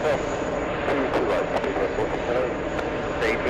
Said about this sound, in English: We have Iberia flying in from Madrid.